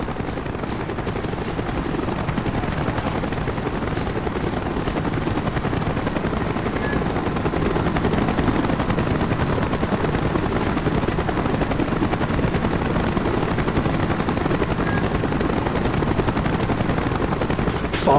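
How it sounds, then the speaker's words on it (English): Helicopter rotor roar with gunfire in the Call of Duty Black Ops video game, a loud steady chopping drone that fills the whole span with no pauses. "Chopper's inbound."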